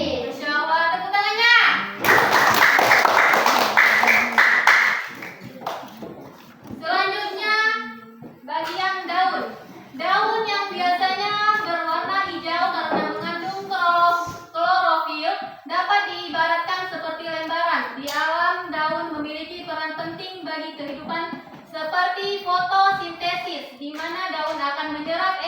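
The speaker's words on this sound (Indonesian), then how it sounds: "Masya Allah, tepuk tangannya." Schoolchildren in a classroom clap their hands in a short loud burst, then children's voices chant and talk together in a lively sing-song rhythm for the rest of the time.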